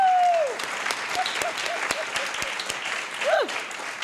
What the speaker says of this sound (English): Yeah, let's clap again.